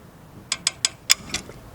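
Wrench clicks on a 2001 car during alternator replacement, five short sharp metallic ticks in a quick uneven series, close and fairly crisp over quiet background.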